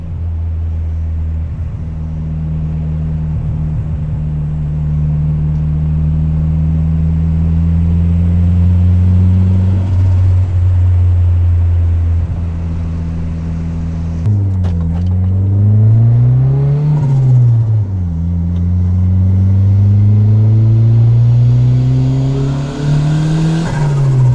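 A turbocharged Honda Civic running a stock ECU accelerates hard through a pull. The loud engine drone climbs steadily in pitch, dips briefly as it shifts, then climbs again with a rising whine near the end.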